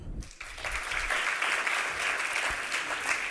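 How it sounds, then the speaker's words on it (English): An audience at an All Africa Digital Economy Moonshot panel event gives a sustained round of applause as a speaker comes up. Dense, even clapping fills the room steadily from start to finish, with no voices over it. "Please give her a round of applause as she comes up."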